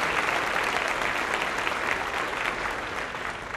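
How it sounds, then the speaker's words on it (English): A crowd applauds steadily at a high school choral concert, dense clapping holding at an even level for a few seconds before easing slightly. "Could we have a round of applause for our cafeteria?"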